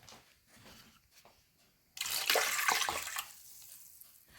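A cup of warm tap water pours into a mixing bowl with yeast, a sudden loud splashing rush that lasts about a second and a half, then settles into fainter trickling.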